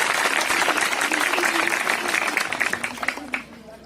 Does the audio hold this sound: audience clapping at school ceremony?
yes